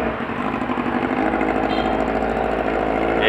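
A Kawasaki Z800 motorcycle engine rides close by, a loud, steady, buzzing drone with little change in pitch that holds throughout without any speech.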